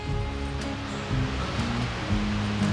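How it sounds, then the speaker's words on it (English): Water flows steadily near a forest campsite in the Ozark National Forest, a constant broadband rush with low rumbling tones running underneath, close and unbroken throughout. "What's that? Water."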